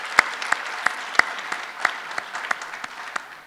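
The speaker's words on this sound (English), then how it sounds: "You really deserve a round of applause." Sparse, scattered clapping from a small audience at a live keynote event, individual claps distinct and spaced unevenly, fairly near and moderate in level.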